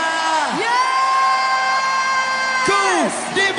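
A church congregation at a worship service cheers and shouts loudly together, a dense sustained crowd roar with rising whoops and long held voices, continuous throughout.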